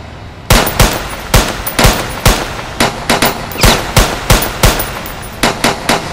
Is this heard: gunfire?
yes